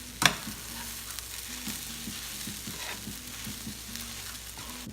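Egg fried rice with ham tossed and stirred in a hot pan: a steady sizzle runs throughout, with light scraping movements and one sharp clack near the start.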